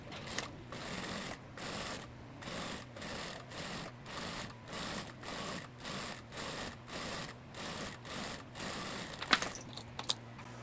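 Sewing machine topstitching along the edge of an Oxford pleated skirt waistband, a steady rhythmic mechanical chatter pulsing in even bursts about twice per second, close and clear, ending with a few louder clicks and knocks.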